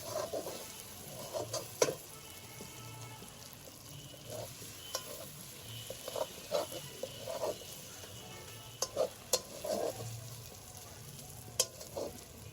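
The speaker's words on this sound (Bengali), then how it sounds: "একটু ভালো করে নেড়ে কড়াইয়ের চারপাশে যেগুলো লেগে গেছে এরকম ভাবে এটা খুব ভালো করে এ করে তুলে" Kochur loti and prawn chorchori sizzles quietly in a kadai while a spatula stirs and scrapes the sides, giving irregular taps and scrapes over a soft, steady frying hiss.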